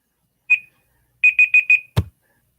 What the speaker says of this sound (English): once this timer goes off.